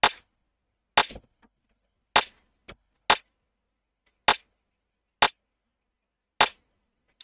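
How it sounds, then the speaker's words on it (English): A dry, sharp rim-shot drum sample in an Afrobeats-style FL Studio beat hits eight times in an evenly spaced pattern, each crisp crack decaying quickly into silence, with nothing else playing. "there's this kind of like a rim shot"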